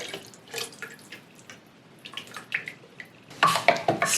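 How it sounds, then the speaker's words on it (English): Vegetable stock is poured into a tomato tin to rinse it and then tipped into a soup maker for minestrone, making soft intermittent splashing and trickling that ends in a louder pour. "I'm just using the vegetable stock to rinse my tin"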